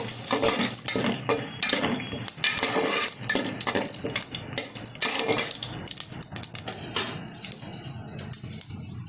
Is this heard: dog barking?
no